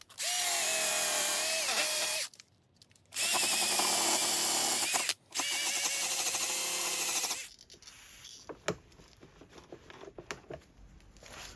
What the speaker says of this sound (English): this one's a little more rusty too, so I'm gonna hit that with a wire wheel